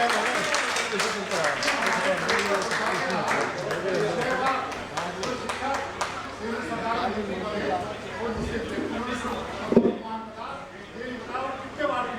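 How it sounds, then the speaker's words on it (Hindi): A crowd at a Hindi poetry recital claps in a loose burst of applause, heaviest at the start. A voice talks over it as the clapping thins out. "जोरदार तालियां एक बार"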